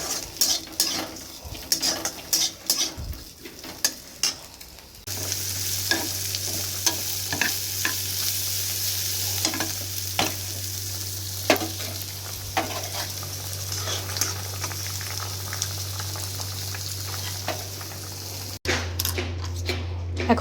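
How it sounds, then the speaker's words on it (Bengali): Potato and cauliflower stir-fried with nigella seeds, onion and green chilli: rhythmic scraping of a spatula against the pan over continuous sizzling, with a steady low hum running through the middle stretch. "আর কালো জিরে পেঁয়াজ কাঁচা লঙ্কা দিয়ে একটু আলু ফুলকপি ভাজা করব"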